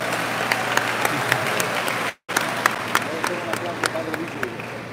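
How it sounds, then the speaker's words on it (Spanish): Applause from a seated audience at an evening Catholic question-and-answer gathering, a steady wash of many hands clapping with a brief cut midway, continuous and fairly close. "quiero un aplauso por este santo que está sentado aquí"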